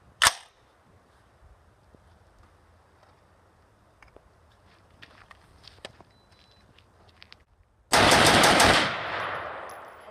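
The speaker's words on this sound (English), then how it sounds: "Next is the Tac Con trigger, 5 shots." A rifle fitted with a Tac Con 3MR trigger fires a rapid string of gunshots that blur into one loud, sharp burst near the end. Before it come one earlier crack and faint handling clicks in a quiet space.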